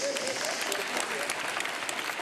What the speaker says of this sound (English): Nigeria, the best booth. Round of applause.